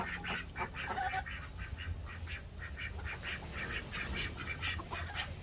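A flock of ducks being herded to their night shelter quacks repeatedly in a busy, overlapping chorus, fairly close, with a steady low background rumble.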